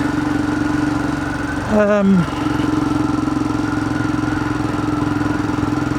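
Royal Enfield Himalayan 411 single-cylinder motorcycle, freshly fitted with replacement valves, runs on a road test with a steady throbbing engine note; about a third of the way in, a brief rising-and-falling tonal sweep breaks the drone before it resumes.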